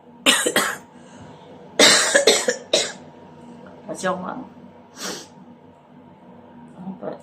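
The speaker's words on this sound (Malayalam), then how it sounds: "ചുമ ഉണ്ട്." Several harsh coughs come close up in irregular bursts, separated by short pauses, with some breathing and throat-clearing between them.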